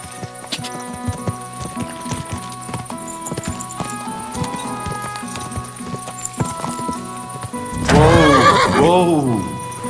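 A horse in Kingdom Come: Deliverance II whinnies loudly near the end, following a stretch of clopping hooves and busy game-like background sounds.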